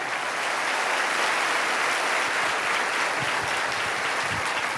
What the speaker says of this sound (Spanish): Aplaude más que eso si lo crees, que se escuche en el mundo